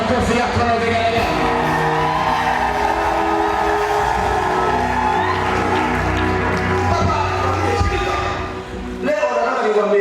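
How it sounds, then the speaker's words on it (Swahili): A Sunday church congregation cheers together, loud shouting and high ululating whoops with clapping woven through a dense crowd roar, continuous and close, dipping briefly near the end. "Pesa na kofi yako na vigelegele."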